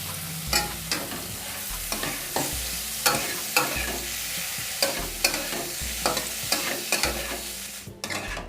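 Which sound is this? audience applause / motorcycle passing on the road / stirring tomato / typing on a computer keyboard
stirring tomato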